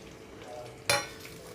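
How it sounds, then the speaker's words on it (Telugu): Whole spices and biryani masala are tipped into a hot pan for bagara rice. A quiet background suddenly bursts into a loud sizzle that quickly fades to a softer frying hiss. "ఇప్పుడు ఈ హోల్ మసాలా దినుసులు అంతా కూడా బిర్యానీ మసాలా అంతా వేసేస్తున్నాను దీంట్లో"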